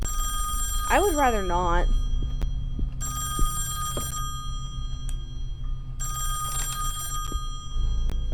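A telephone in the horror game Song of Horror rings in repeated bursts separated by pauses, with a steady low hum underneath and a person speaking briefly near the start.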